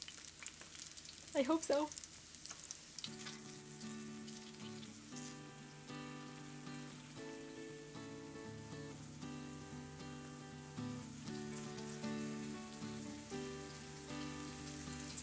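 Latkes frying in a pan, a soft, steady sizzle running under background music, with a brief spoken voice near the start.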